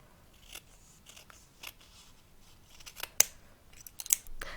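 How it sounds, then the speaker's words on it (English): Scissors cutting grosgrain ribbon into squares: a string of crisp, close snips at irregular intervals, sharper and louder toward the end, over a quiet room with no talking. "First we need to cut the squares. We cut the edge to be straight."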